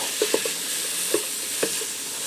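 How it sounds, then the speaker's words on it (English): Ground beef browning on the saute setting of a Ninja Speedi, a steady sizzle running under a few distinct scraping stirs as the meat is broken up, close and moderately loud. "I'm going to add it in here and I'm going to break it up and start to brown it up"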